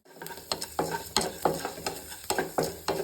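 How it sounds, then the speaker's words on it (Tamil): Chana dal sizzles in a little hot oil in a pan, with repeated sharp stirring scrapes in a steady rhythm over a constant frying hiss, close and clear, no talking. "எண்ணெய் ஊற்றிக்கோங்க லைட்டாக. உங்களோட கடலைப்பருப்பை போட்டுருங்க."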